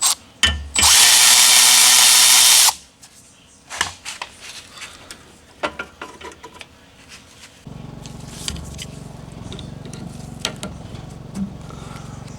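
Power drill whirring loudly for about two seconds as it backs screws out of the top cover on an old red Craftsman push mower, followed by quieter clicks and handling of metal parts.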